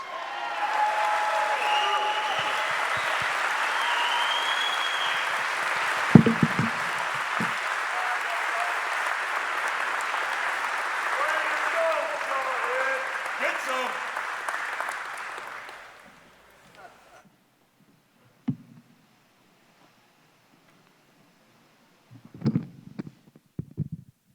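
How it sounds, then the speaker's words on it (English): A gala audience at a patriotic ball breaks into sustained, loud applause for about fifteen seconds, then it fades out, leaving near-silence broken by a few brief bumps and rustles. "Let's give him another round of applause."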